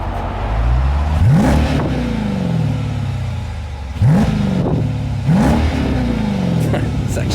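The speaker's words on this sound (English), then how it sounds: "Let me see if it changed your exhaust note." Jeep SRT with a K&N intake revving repeatedly, three rising engine sweeps that fall away, with a loud exhaust note heard from inside the car.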